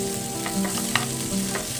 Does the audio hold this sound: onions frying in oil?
yes